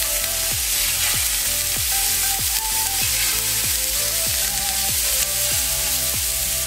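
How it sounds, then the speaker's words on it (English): Beef burger sliders fry in an oiled pan on a stovetop, giving a loud, continuous close sizzle with rhythmic clicks or ticks repeating about twice a second throughout, and no one speaking. "gently lay the sliders away from you so that you don't burn yourself and it doesn't splatter"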